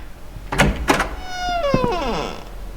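A door swinging shut inside the horror game Evil Inside, with two sharp knocks followed by a drawn-out creaking squeal as the door closes, loud and close with no talking.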